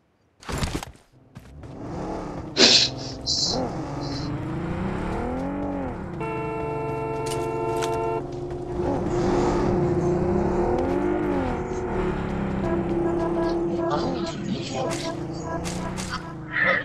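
Engine of a car driven in the battle royale game BGMI, a steady mid-level drone held almost the whole time, with player voices chatting over it, brief game interface beeps, and a tonal effect partway through.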